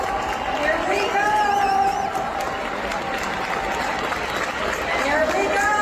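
An audience at a team meeting applauds and cheers for a woman, with sustained clapping mixed with voices and excited chatter.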